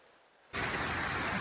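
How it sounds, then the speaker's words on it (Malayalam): Heavy rain comes down on a farm, starting abruptly after a quiet moment and then keeping up as a loud, dense, steady hiss close by. "അപ്പോൾ കണ്ടോ നല്ല മഴ പെയ്യുന്നുണ്ട്"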